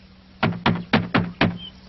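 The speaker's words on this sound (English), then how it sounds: "Let's knock at the door." Knocking on the door of a small cottage: five firm, evenly spaced raps on wood, close and clear, with nothing else audible.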